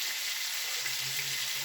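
Sausage and potatoes seasoned with salt, pepper, onion salt and Goya Sazon frying in a pan, giving a steady, close hiss of sizzling that runs unbroken with no voices.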